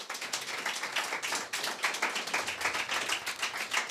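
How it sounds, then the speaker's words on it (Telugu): A church congregation claps together in a steady, dense burst of many hands, loud and close throughout with no talk over it. "ఒకసారి చప్పట్లు కొడదాం."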